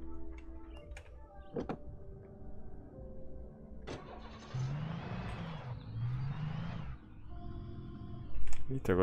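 A car engine starting in the video game Alan Wake, the engine cranking and turning over, then rising to a mid-pitched running hum, with a person talking over it.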